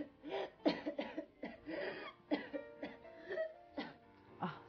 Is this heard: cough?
yes